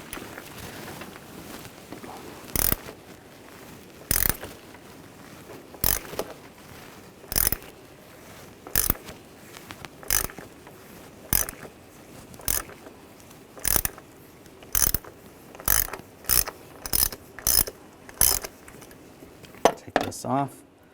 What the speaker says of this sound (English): we're going to take the cap off for the oil filter housing